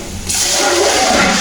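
Water poured into a pan of browning onions for an aloo matar pulao sets off a loud, steady sizzling hiss that begins abruptly and holds for over a second.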